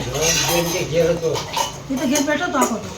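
Metal utensils clink and clatter now and then during a family meal at home, with plates and rotla being served. Lively talking carries over them throughout.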